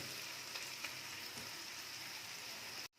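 Spiced masala and chopped tomatoes fry in a pan for mutton keema, giving a soft, even, continuous sizzle and crackle that stays quiet and close before cutting off abruptly at the end.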